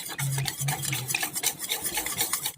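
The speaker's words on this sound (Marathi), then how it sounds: "त्याला छान असं मिक्स करून घ्यायचं आहे" Spoon stirring a thick taro leaf curry in a pan, rhythmic scraping and wet churning strokes close up, with a light sizzle underneath.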